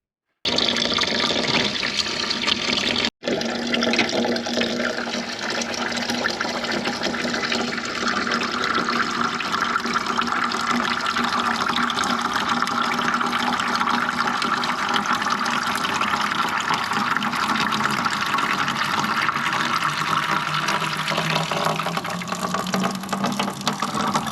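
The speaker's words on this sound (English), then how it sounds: "we'll drain that and make sure everything's flowing away nicely" Water drains steadily from a sink for the whole stretch, a close, even gurgling rush, with no voices.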